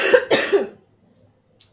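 Two or three quick, harsh coughs close by, followed by silence and a faint brief noise at the end.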